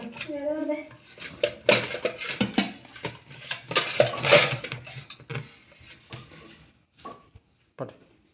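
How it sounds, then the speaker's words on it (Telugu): A plastic plate being pulled out from among dishes, with clattering knocks and clinks of stacked tableware, close and irregular, with speech briefly at the start. "ప్లాస్టిక్ తీస్తున్నా ప్లేట్"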